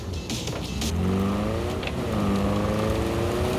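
Car engine in the video game Cyberpunk 2077 running steadily with rising revs, a continuous close drone throughout with a brief clatter near the start.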